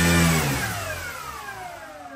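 Electric 6S motor of an H-King YAK-11 Steadfast RC model plane, a loud revving whine that starts strong and falls away over about two seconds, with no talk.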